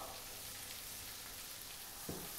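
Fresh sorrel leaves go into a pan of sweated shallots, setting off a soft, even hiss of sizzling, with a brief thump near the end.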